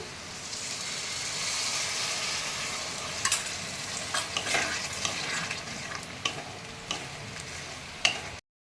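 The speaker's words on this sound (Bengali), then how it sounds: "এবারে আমি নেড়ে নেবো ভালো করে আর এদিকে গরম জল বসেছি তোমরা দেখো গরম জলটা ফুটছে" Vegetable white pulao is stirred in a pot while hot water heats nearby: a steady hiss runs under scattered scraping clicks and taps of the spoon, then cuts off abruptly.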